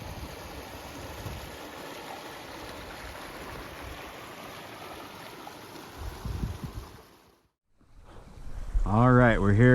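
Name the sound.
creek water flowing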